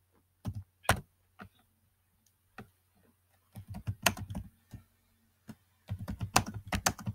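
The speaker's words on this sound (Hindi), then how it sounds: "तो आपने इसको गूगल में जाके आप टाइप करें" Typing on a computer keyboard into a search box: close, crisp keystrokes in uneven clusters, a few isolated taps early, then quick runs of clattering keys with short pauses, over a faint low hum, no talking.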